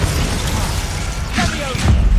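A spell explodes in the Hogwarts Legacy video game, a loud, close deep boom with bursting crackle, set over dense game combat noise, with a second heavy thud near the end.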